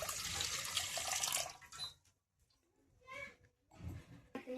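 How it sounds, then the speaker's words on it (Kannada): A glass of water is poured into a pan while making a karadantu-style sweet, a splashing pour of about two seconds followed by quieter kitchen handling and faint trickles. "ಒಂದು ಗ್ಲಾಸ್ ನೀರು ಹಾಕ್ಲತ್ತೀನಿ ರೀ."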